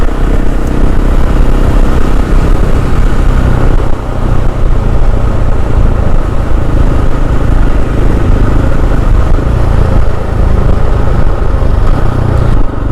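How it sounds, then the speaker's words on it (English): KTM 690 SMC R supermoto motorcycle accelerating hard off the line, a loud, close, steady single-cylinder engine roar that holds throughout with only a brief dip partway through. "Definitely a very quick motorcycle off the line."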